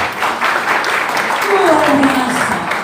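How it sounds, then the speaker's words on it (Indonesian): An audience at a church anniversary service applauding together, a short burst of dense clapping with a voice speaking over it. "Tepuk tangan buat Tuhan dong."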